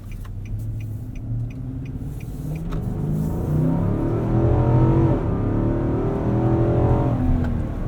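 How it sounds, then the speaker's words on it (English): A 2018 Infiniti QX80 4WD SUV with a V8 and 7-speed automatic accelerates, heard from inside the cabin as a steady engine drone rising in pitch and loudness through smooth upshifts, with no talk. "let's see what this V8 can do"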